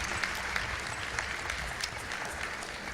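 An audience at a senior women's pageant claps continuously for a contestant. The dense patter is fairly faint and distant and holds steady for the whole stretch.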